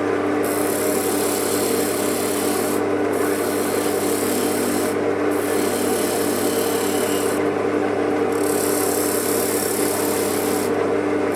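A gouge cutting a wooden sphere spinning on a lathe, a continuous loud rasping scrape over the motor hum, broken by brief pauses as the tool is lifted, with no speech.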